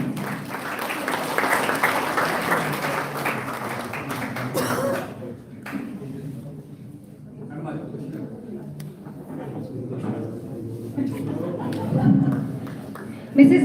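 Audience clapping at a college seminar honouring a school director, a burst of applause for the first few seconds that fades into scattered claps and room murmur, with a voice talking over it afterward.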